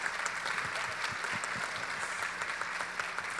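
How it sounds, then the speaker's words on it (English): Steady audience applause at a tech demo night during a conference, an even, continuous wash of many hands clapping at moderate loudness, with no talk over it. "Let's give a round of applause for them and for our companies."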